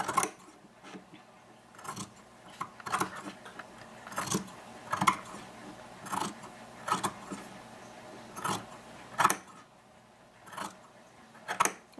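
Scissors cutting fabric strips for a no-sew tied 18-inch doll blanket, a string of sharp close snips at an uneven rhythm, some clustered and others spaced out, in a quiet room.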